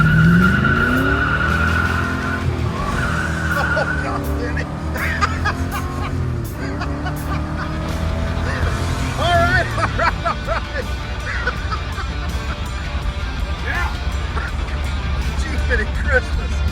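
A 1968 Camaro SS with a big-block engine running on E85 revs and pulls hard, its rising engine note steady and loud alongside brief tire squeal, with people talking and laughing inside the car throughout.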